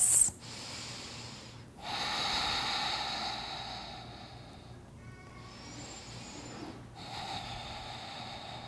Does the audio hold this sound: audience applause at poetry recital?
no